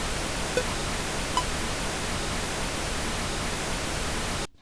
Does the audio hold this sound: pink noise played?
yes